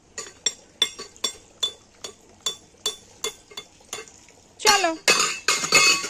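Metal spoons and utensils at a stall selling plates and dishes, clinking in a quick rhythmic series of about a dozen sharp taps, followed by louder jangling clatters near the end.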